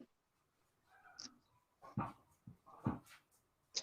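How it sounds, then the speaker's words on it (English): Dogs outside bark and whimper in a few short, faint bursts spaced irregularly, sounding somewhat distant and low in level. "my dogs need to come in, and they're out there messing around"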